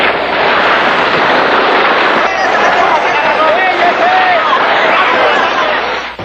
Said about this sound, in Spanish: Disparan en dirección al ala sur del edificio Chihuahua